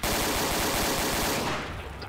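Dense automatic gunfire fills a Garry's Mod firefight, a continuous loud rattle of rapid shots that thins slightly toward the end.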